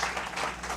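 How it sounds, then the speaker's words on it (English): Brief burst of audience applause for event organizers at a World Suicide Prevention Day talk, a dense, even clapping texture from a crowd with no gaps. "let us have a big round of applause for your organizers"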